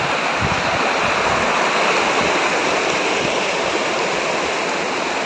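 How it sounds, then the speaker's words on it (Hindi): A river in Arunachal Pradesh in north-east India rushes steadily, a loud, continuous broadband roar of flowing water close by with no pauses and no voices. "नदी"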